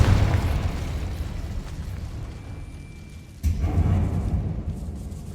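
Confringo spell blast in the Hogwarts Legacy video game, a deep rumbling boom that fades, then a second heavy burst strikes and rolls on.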